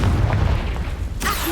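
A Confringo fire spell from Hogwarts Legacy goes off as a loud, booming blast that fills the short clip with dense low rumble, followed by a sharper crackling burst near the end.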